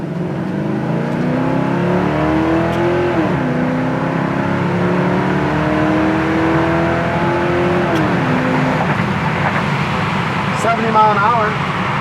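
A 1968 Chevrolet El Camino with a 327 V8 and a Quicksilver shifter revs hard and climbs through the gears near 5,000 RPM. Its pitch rises, drops at each shift and rises again, loud and close throughout.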